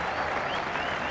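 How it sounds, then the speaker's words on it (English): A cricket crowd at a Sheffield Shield final between Queensland and South Australia claps and cheers after a wicket, a dense, continuous wash of applause that fills the whole moment. "A crowd starting to come alive."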